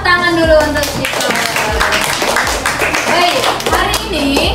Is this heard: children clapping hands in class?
yes